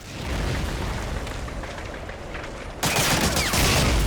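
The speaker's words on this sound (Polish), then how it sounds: "Ktoś tu strzela do mnie, tylko nie wiem kto" Gunfire in Medal of Honor Allied Assault: Breakthrough, a dense crackling burst of distant shots and rumble that jumps suddenly louder and brighter partway through, continuous battle noise with no talk.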